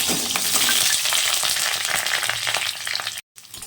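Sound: boiled potatoes frying and being stirred in oil

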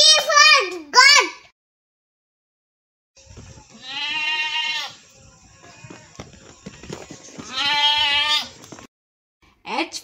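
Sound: goat bleating

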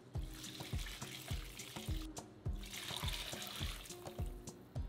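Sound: pouring meat broth into tamale masa

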